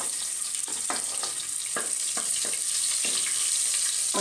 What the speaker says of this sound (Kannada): ಸಾಸಿವೆ ಸಿಡಿತಾ ಇದೆ, ಚಟಪಟ ಅಂತ ಇದೆ